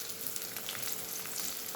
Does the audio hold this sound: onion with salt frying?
yes